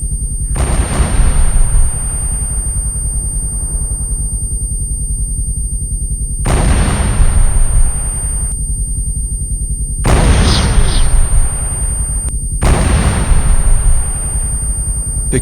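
M-107 self-propelled artillery firing in ARMA 3, four loud booming cannon blasts spaced a few seconds apart, each with a sharp crack and a long rumbling decay over steady background noise.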